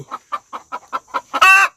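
A country hen in a village in Batticaloa clucks after laying an egg: a quick, steady run of loud, close clucks that ends in a sharp, drawn-out squawk.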